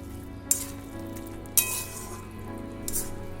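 Bottle gourd and prawn mash fries in a pan with green chili and a little flour, sizzling steadily up close, with a few sharp scrapes and clinks as it is stirred.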